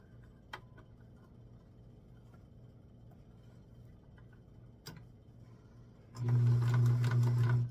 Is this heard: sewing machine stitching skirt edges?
yes